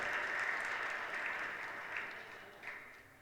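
An audience claps through a Hindi religious discourse, a steady, fairly distant patter of applause that slowly fades toward the end.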